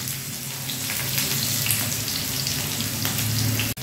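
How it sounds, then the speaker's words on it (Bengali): Chopped onions hitting hot oil in a pan for Indian-style veg chowmein, giving a steady, close, hissing sizzle that holds evenly throughout, ending with a brief dropout. "এতে ছেড়ে দিচ্ছি আমি এই পেঁয়াজগুলো"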